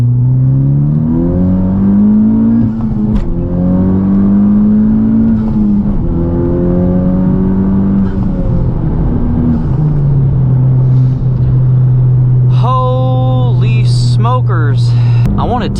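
A Honda Type R accelerates hard on a highway, its engine note climbing through rising revs, dropping at a shift, then surging again, loud and close with steady road rumble beneath and a brief whine near the end.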